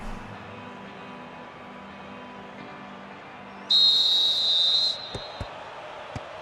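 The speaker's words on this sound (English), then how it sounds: "The whistle goes for the second half." A referee's whistle blows once, sustained for about a second, to start the second half of a football match in the PES 2015 video game, over a low crowd murmur, followed by a few faint ticks.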